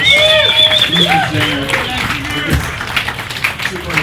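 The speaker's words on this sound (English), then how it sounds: "Big round of applause" An audience breaks into applause, a dense wash of clapping filling the room while voices talk and call out over it.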